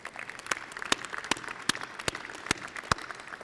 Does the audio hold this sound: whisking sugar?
no